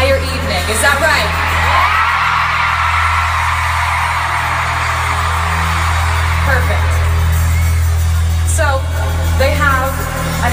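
A concert crowd screams and cheers in a loud, continuous roar, with scattered sharp whoops rising above it throughout.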